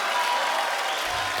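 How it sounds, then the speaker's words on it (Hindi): A studio audience at a comedy show applauds the film's star cast, a dense, steady wash of clapping from a large crowd that fills the short stretch evenly. "एक बार जोरदार तालियां आदित्य, वरुण, सोनाक्षी और आलिया के लिए"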